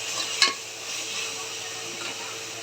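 Chicken is stirred together with yogurt, chili powder, turmeric and spice powder. The mixing is soft, wet and quiet, and a single sharp utensil clink comes near the start.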